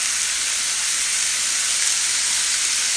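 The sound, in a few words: stir-frying paneer vegetables with Maggi sauce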